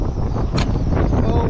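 Strong West Texas windstorm roars and buffets the microphone in a loud, continuous rush, with a brief sharper gust midway.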